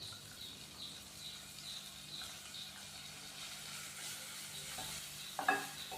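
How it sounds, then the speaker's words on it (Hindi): Onion frying gently in a pan with ginger garlic paste gives a faint, steady sizzle, with a brief stir or scrape near the end. "प्याज डालने के बाद हम प्याज को 1 से 2 मिनट के लिए हल्का सा फ्राई करेंगे ताकि प्याज थोड़ा सा नरम हो जाए।"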